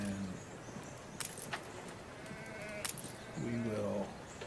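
Sheep bleating at a sheep farm in the Anno 1800 city-building game, short bleats at the start and near the end over a busy game ambience with clicks and jingles.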